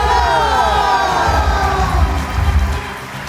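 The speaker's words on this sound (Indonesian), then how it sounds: "Beri aplaus yang luar biasa untuk Aibda Heri Prabowo" A large audience at an event cheers and shouts loudly with a bright crowd roar that swells and then eases slightly.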